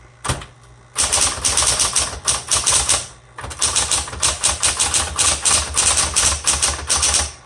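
A 1960s Smith Corona Coronet electric typewriter clatters with rapid, uneven keystrokes in bursts, with a short pause partway through, loud and close.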